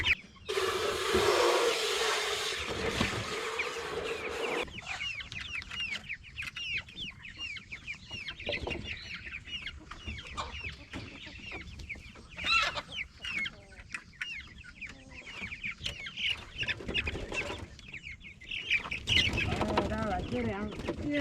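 Meat chickens in a coop cluck and squawk almost constantly, with bursts of wing flapping, loud and close, and a person speaks briefly over them.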